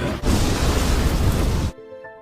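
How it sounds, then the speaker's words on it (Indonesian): A cannon fires in an anime, a loud sustained blast and rumbling roar that ends abruptly, followed by quiet tonal background music. "Mizet kemudian mengajak Laurot mencoba meriamnya, dan saat ditembakkan, Laurot terlempar karena hentakan kuat dari meriam tersebut."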